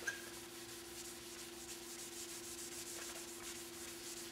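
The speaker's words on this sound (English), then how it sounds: "you can use them to scrub out the structure of the ski and get all that oil and dirt off the" Kitchen scrub pad rubbed over a ski base to clean oil and dirt from its structure, a soft steady rhythmic scrubbing close by, faint over a constant low hum, with no talking.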